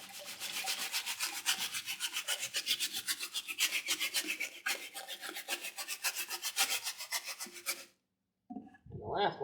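Wild clay slurry carrying little rocks and sand is pushed through a mesh screen, making a steady rhythmic rasping scrape with repeated strokes that stop abruptly near the end, followed by a couple of brief knocks.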